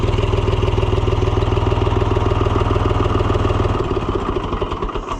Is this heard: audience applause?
no